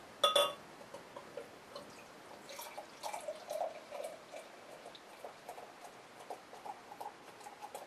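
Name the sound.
pouring DuClaw Double Naked Fish stout from bomber into glass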